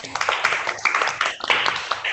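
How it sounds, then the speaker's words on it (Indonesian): A classroom of schoolchildren claps for a student, uneven bursts of hand claps mixed with young voices chattering over the clapping. "Tepuk tangan buat Neng."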